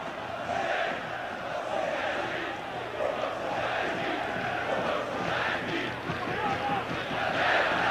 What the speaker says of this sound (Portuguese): Muito bonita a festa da torcida do Palmeiras no Bruno Daniel.